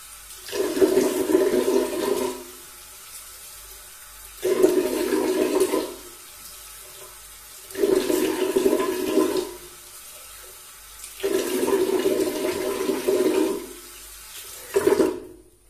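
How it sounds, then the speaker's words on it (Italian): Water splashes in repeated bursts as a face is rinsed over a sink after a shave, with five separate splashing bouts broken by short quiet gaps. "Bene, sciacquiamo il viso."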